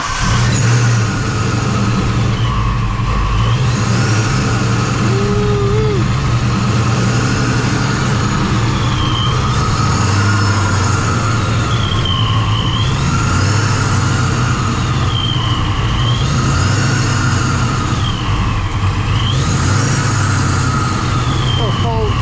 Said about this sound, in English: Little cold start.